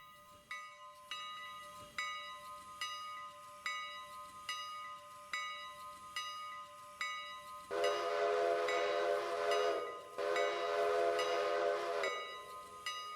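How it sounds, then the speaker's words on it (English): Steam locomotive bell and whistle in the railroad video game Railroader: a bell rings steadily about once a second, then two long, loud whistle blasts sound over the continuing bell. "Now start ringing the bell and give the whistle 2 blasts."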